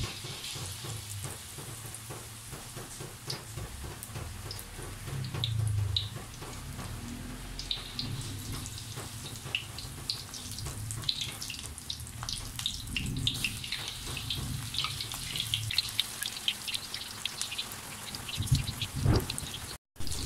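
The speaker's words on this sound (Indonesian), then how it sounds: "Sekarang saatnya menggoreng." Steady crackling sizzle of batter-coated tofu deep-frying in hot oil, continuous and close, with scattered pops and no voices.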